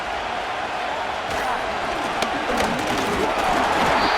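Stadium crowd noise at Super Bowl XXXI, Green Bay Packers versus New England Patriots, with a dense roaring crowd and rising cheers filling the background.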